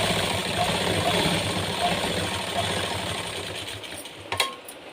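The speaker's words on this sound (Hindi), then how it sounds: "इस तरीके से फोल्ड करने के बाद हम इस पर सिलाई लगाएंगे।" Sewing machine stitching a blouse, a steady mechanical whir with a fast running rhythm that slows and fades near the end, followed by a brief clack, close by with no talking.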